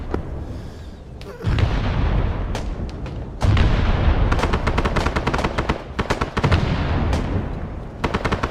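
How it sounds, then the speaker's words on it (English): Artillery and gunfire in the military shooter Arma 3, a dense run of sharp booming reports and rapid bursts, loud and close, firing almost continuously with brief gaps between volleys. "That's some good artillery."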